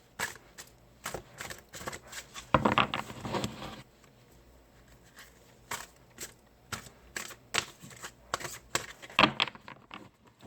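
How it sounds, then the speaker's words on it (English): Tarot cards being shuffled by hand before an Aquarius reading, heard close up as a series of soft papery riffles and taps in uneven bursts, with one longer, louder flurry near the start and quiet pauses between. "I already pre-shuffled the cards, but I always shuffle again once I turn the camera on."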